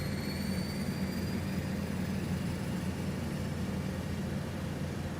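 A simulated PT6 turboprop engine of a Black Square Starship runs up during start in a flight simulator, a steady, droning whine with a low rumbling hum underneath, constant and close.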